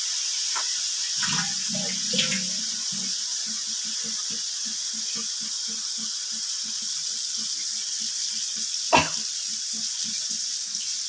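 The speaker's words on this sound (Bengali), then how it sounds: "এই বাটি 2 বাটি আমি জল দেব।" Water poured into a pan of fried spices and fried potatoes for a shol fish curry, a steady watery splash under broadband hiss with soft repeated utensil clicks and one sharp knock near the end.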